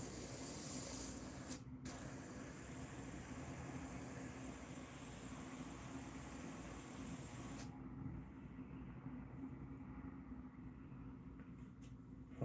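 An airbrush sprays paint during the final steps of finishing bluegills, a steady, close hiss running for about seven and a half seconds before cutting off, leaving only faint background.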